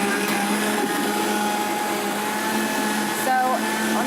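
A countertop blender whirs continuously while puréeing soup, a steady loud motor drone with a slight pitch wobble near the end and no clear speech over it.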